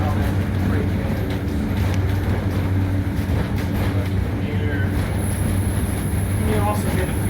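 The Como-Harriet streetcar rolls along with a continuous low rumble and hum of motors and wheels, steady and close, with faint squeals toward the end as it brakes.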